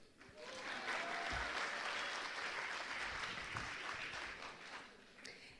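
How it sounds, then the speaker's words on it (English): Loud, sustained applause from a panel session audience, a dense wash of many hands clapping that swells in and holds steady for several seconds before tapering slightly, with a few faint voices mixed in. "Loud applause."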